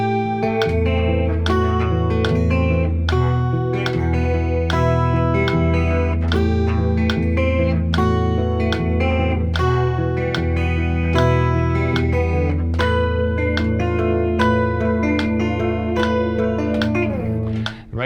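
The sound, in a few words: guitar fingerpicking part of a song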